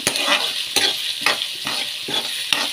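Thinly sliced medium onions fry in hot oil for palak paneer, a steady close sizzle broken by about six regular scrapes of stirring, with no talking.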